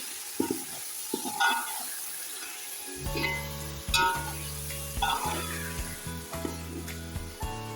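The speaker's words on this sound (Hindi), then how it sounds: "मसाले ऐड करने के बाद हम टमाटर डाल देंगे और मिक्स करेंगे।" Chopped tomatoes hit hot spiced oil in a pot for degi chicken pulao, sizzling and being stirred, with soft scraping and frying crackle under steady background music.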